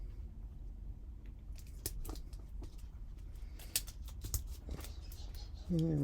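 Scissors snipping through folded paper card to trim off bulk while making a finch card, a run of short, crisp cuts, close and fairly quiet, ending with a brief burst of voice.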